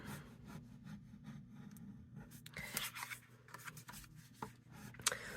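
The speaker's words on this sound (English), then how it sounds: "we're going to just rub them on a hard surface" Scored cardstock is rubbed against a hard surface in soft, irregular scraping strokes, quiet and close, with a few sharper scuffs near the end.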